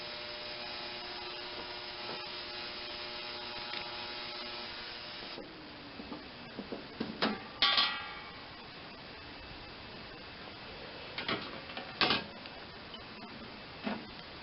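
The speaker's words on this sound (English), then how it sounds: "I turned on the ultrasonic action. That's been going for about 15 minutes now" Ultrasonic cleaner running while cleaning parts from a Kohler Command 15 hp engine, a steady buzzing hum that shuts off partway, followed by scattered clanks and rubbing of parts being handled.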